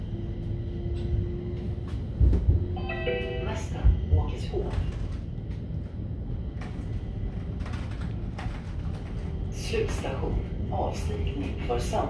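A Stockholm subway train rumbles steadily along the track while riding, with clanks, squeals and a few brief tones. Someone speaks quietly over the noise.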